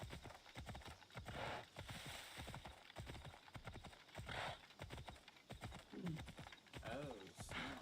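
Rhythmic clip-clop of horse hooves at a gallop in Assassin's Creed Odyssey, steady and close, with someone talking excitedly over them throughout.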